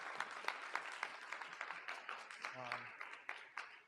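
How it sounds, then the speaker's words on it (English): Applause from an audience at the close of a school's Grade 9 World Congress, with a dense wash of clapping running steadily throughout and brief speech-like sounds over it. "one last final round of applause to everyone who was involved"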